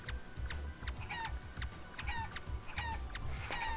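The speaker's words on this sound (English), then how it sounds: "Alright, shoot the chickens." Chickens in the Realm of the Mad God video game cluck over and over in a busy, steady chatter, with game sounds mixed in and no talking.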